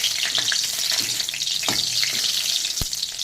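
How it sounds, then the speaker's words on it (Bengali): Green chillies fry in oil with a loud, dense, crackling sizzle heard close by, with occasional light knocks of a utensil against the pan and no talking. "লঙ্কাটাকে আমি ভেজে নিচ্ছি আলুর চোখার ভিতরে দেবো বলে।"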